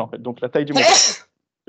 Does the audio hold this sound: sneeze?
yes